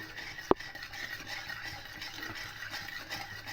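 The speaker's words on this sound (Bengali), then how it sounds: "চিনি দিয়ে একটু তেলের সঙ্গে চিনিটাকে ক্যারামেল করে নেবো" Sugar stirred into hot oil to caramelize, a faint soft scraping of a spoon around the pan with one sharp clink near the start, steady and quiet with no talk.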